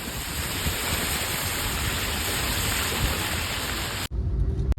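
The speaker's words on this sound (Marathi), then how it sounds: "बदलापूरला तुफानी पाऊस चालू आहे" Heavy monsoon rain in Badlapur pours in a dense, constant hiss, loud and close, then cuts off abruptly near the end, leaving quieter, uneven background noise.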